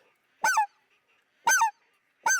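A specklebelly goose call blown by hand gives single popped notes, three short, loud honks with clean breaks of silence between them.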